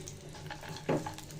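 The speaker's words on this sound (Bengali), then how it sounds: "তো ড্রাই ফ্রুটগুলো ভেজে নিব ঘিয়ে।" Raisins, cashews and almonds fry in ghee in a pan, a soft steady sizzle with faint stirring clinks and one brief louder hiss near the end.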